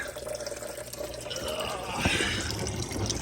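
Liquid drains from a hose during a Saturn car teardown in a shop, trickling and splashing faintly at first, then building into a steadier pouring flow with a drip or splash midway.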